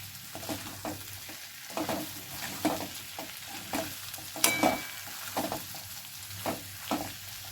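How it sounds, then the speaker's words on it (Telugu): Potato fry being stirred in a pan after salt goes in, with a steady soft sizzle under repeated scraping strokes of a spoon at a regular rhythm, close up and fairly quiet. "1 స్పూన్ ఉప్పు వేసి కలుపుకోవాలి."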